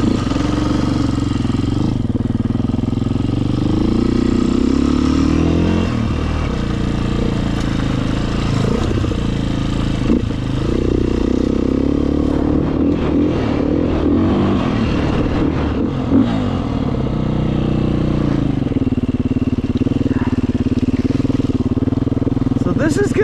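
A 2018 Beta 500RR dirt bike engine runs loud and close while riding off road, its throttle rising and falling through several revving swells over about twenty seconds, with a voice occasionally heard over it.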